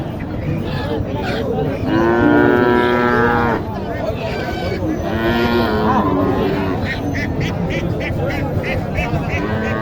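A Gir cow at a cattle market moos loudly in two long, drawn-out calls close to the microphone, with people talking and market chatter around it.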